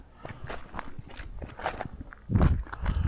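Footsteps crunching through woodland at night, an irregular walking rhythm of close, moderately loud steps that grow heavier toward the end, with no talking.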